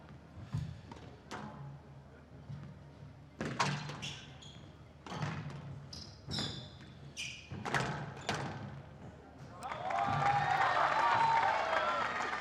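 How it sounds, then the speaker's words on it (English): A squash match crowd starts with scattered thuds and taps, then rises into a sustained burst of cheering and applause at the end, loud and broad. "I heard a few roaring in the crowd"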